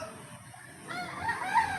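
A rooster crows once, fairly close, a rising drawn-out call over quiet background.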